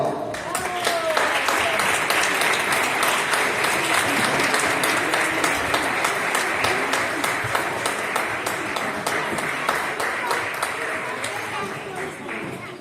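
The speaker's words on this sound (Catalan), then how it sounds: "Un aplaudiment." An audience at a school award ceremony for a children's prize applauds, a dense sustained clapping with crisp individual claps throughout, slowly thinning at the end.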